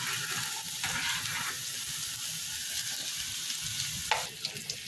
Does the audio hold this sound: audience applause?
no